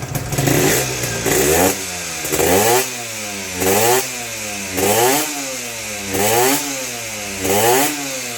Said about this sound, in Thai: คลิปเสียง เสียงเบิ้ลเครื่อง